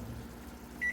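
A kitchen microwave oven hums steadily while making taco stuffed peppers, then gives a single short, clear beep near the end. No one speaks.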